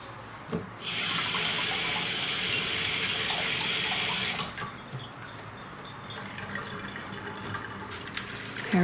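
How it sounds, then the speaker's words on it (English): Tap water runs into a sink as silver is rinsed after tarnish cleaning, a steady close rushing stream that starts abruptly, flows for about three seconds, then cuts off leaving faint drips and handling noise. "I'm going to take it out and just rinse it in water"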